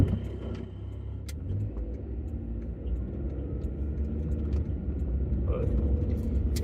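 A car rolls along a town road, its low engine and tyre rumble steady and moderately quiet under someone talking.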